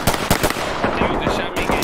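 Rapid gunfire in Ready or Not during a SWAT raid on a cartel, loud close bursts of shots in quick succession filling the moment, with no clear speech.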